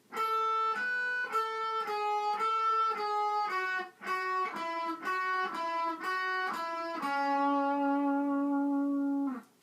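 Guitar playing a battle theme from Pokemon Omega Ruby/Alpha Sapphire, a clean run of plucked single notes in quick succession that ends on a long sustained low note.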